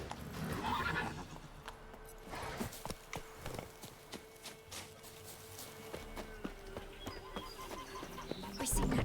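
A horse in The Witcher 3: Wild Hunt gallops with rhythmic clip-clopping hooves and gives a neigh at the start, moving at a steady pace against faint outdoor ambience and a distant bird.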